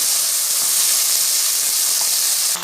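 Flat beans (avarakkai) roast lightly in a hot pan for sambar, giving a steady bright sizzling hiss that holds evenly and drops off slightly at the end, with no voices.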